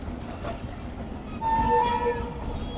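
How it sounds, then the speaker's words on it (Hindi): A slow passenger train rolls toward Hyderabad Junction in Pakistan, a steady low rumble with a short horn note rising above it partway through, heard from on board. "लग रहा है कि स्लो स्लो ट्रेन हमारी अप्रोच बना ही लेगी हैदराबाद जंक्शन पर।"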